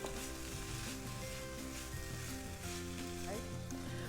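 Shishito peppers stir-fried in a pan for seafood fried rice, giving a steady, close sizzle over a constant background hum of tonal, music-like layers that stay level throughout.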